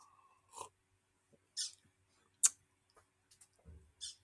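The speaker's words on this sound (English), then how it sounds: "Sorry, the birds distracted me." Birds calling outdoors on a busy summer morning, with a hummingbird about: sparse, brief chirps and ticks spaced a second or so apart, faint and fairly distant, with no talking.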